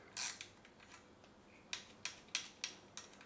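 Small bolt being undone on the cam chain tensioner of a Kawasaki ZRX1200R motorcycle, heard as a series of quiet, sharp metallic clicks like a ratchet, roughly evenly spaced and close by with no talking.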